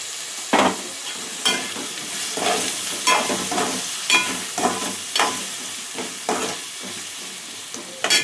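Potato pieces with a spoonful of turmeric are stirred in a frying pan for a chicken, potato and chana dal curry, giving a steady sizzle with repeated scraping spoon strokes, close and without talk.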